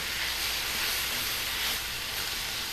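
Sweet and sour peppers cooked in an agrodolce glaze sizzle in a pan, a steady, close, bright hiss that runs unbroken and fairly loud for the whole moment.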